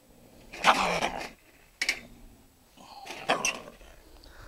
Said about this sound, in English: He's gonna growl at me a little bit